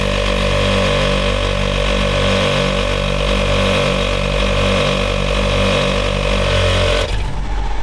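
An ARB pressure control module's compressor pumps up a tire with a loud, close, steady pulsing drone that runs unbroken for about seven seconds and then stops abruptly.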